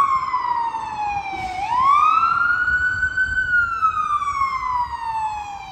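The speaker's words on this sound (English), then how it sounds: "I hear police sirens and ambulance sirens" Police and ambulance sirens wail on a Vancouver street, loud and close, with a rising and falling tone that dips, swoops back up and then slowly glides down.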